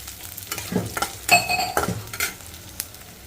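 Curry leaves hit a hot ghee tempering of mustard seeds for a cashew and sour mango dish: a short burst of sizzling with a few utensil clinks and stirring scrapes, close by and without talking.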